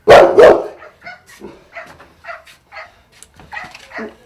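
Dogs at an animal shelter let out two loud, close barks, then a run of quieter yips and whimpers in uneven bursts, with no people speaking.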